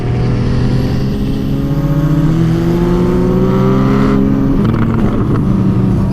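A Porsche Cayman GTS fitted with a complete 991.2 911 Turbo S engine swap revs hard and close, its engine note climbing steadily in pitch as it accelerates, loud and continuous with no voices.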